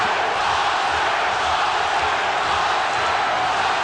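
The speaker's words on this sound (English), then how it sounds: "Crowd chanting, Oscar, Oscar," A large arena crowd at the Oscar De La Hoya vs Pernell Whitaker boxing match, a dense, continuous roar of massed voices chanting, loud and steady throughout.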